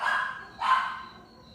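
A dog barks twice in quick succession, loud and close, the second bark coming after a brief pause, with no talking.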